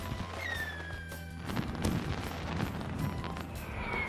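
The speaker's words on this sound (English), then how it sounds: "And we'll see all the different fireworks." Fireworks in the video game Persona 5: The Phantom X whistle upward and burst in several muffled booms and crackles over a steady background hum.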